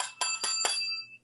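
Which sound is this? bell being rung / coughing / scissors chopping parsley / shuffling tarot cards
bell being rung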